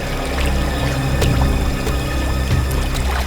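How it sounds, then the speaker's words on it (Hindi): Water flows steadily nearby as a constant rushing, pouring sound with a few faint clicks and knocks mixed in. "सर इस तरफ से पानी के बहने की आवाज आ रही है"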